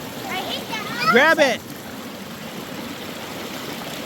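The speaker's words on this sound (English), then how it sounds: "Time to try and traverse this waterfall a little bit." A small waterfall and stream in Cherokee territory rush steadily as a continuous watery hiss, while someone speaks briefly near the start over the flow.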